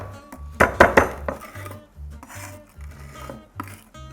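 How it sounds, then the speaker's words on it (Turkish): A kitchen knife chops garlic finely on a board, with a quick cluster of sharp taps followed by softer, irregular cutting and scraping knocks, close and clear with no talk. "Sarımsağı da şöyle kesiyorum."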